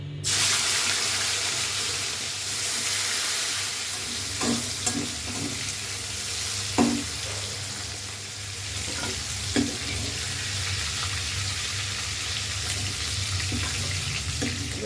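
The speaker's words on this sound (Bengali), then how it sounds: "আমি চিংড়ি মাছ ভেজে নেবো" Shrimp frying in hot oil in a pan, a loud dense sizzle that runs continuously, with occasional scrapes and clinks of a utensil against the pan.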